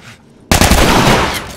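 Gunfire in The Last of Us breaks out suddenly after a quiet moment as a loud, close burst of rapid shots that keeps going to the end.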